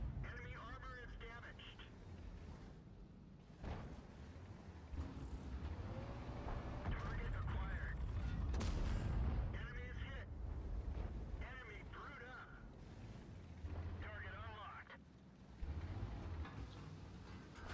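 Tank cannon shots and heavy impacts from an M103 tank battle video game, booming bursts amid engine rumble and radio chatter, with someone talking over much of the action.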